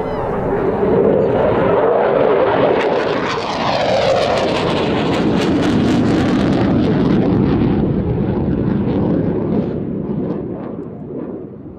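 A Eurofighter Typhoon jet roars past in a flying display at an air festival, its loud engine thunder swelling, sweeping by and slowly fading over about twelve seconds, with no voices.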